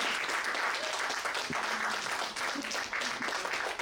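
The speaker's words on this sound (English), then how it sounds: "Round of applause for all of these authors." An audience applauds a group of authors at a bookstore event, sustained crowd clapping heard from within the room, fairly even and moderately loud with faint voices mixed in.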